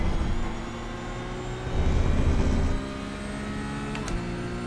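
Engine of a Porsche Cup race car in iRacing at Mexico City hums and swells, rising louder in the middle then easing back, a steady simulated drone with a brief click near the end.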